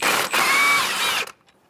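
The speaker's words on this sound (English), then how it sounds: "I'm going to use a 19mm socket" Strut bolts on a 2014-2018 Subaru Forester worked with a ratchet and 19mm socket: a close, continuous whirring buzz of a powered ratchet for about a second, then a sudden stop into quiet.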